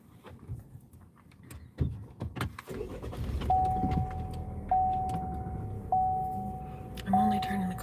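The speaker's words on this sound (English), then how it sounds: "I'm only turning the car on because I'm cold" A car being started on a cold day, with repeated electronic chimes ringing at a steady interval over a low idle rumble after some handling noises and keys.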